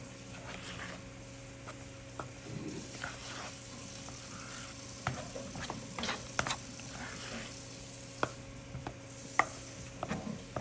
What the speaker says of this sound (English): And you just stir this up till you get everything incorporated in here.